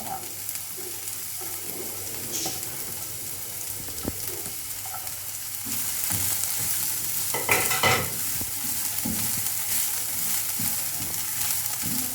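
Chopped onions fry in a pan with ginger and garlic, giving a steady sizzle that swells louder partway through as they are stirred, with scraping touches and no talk.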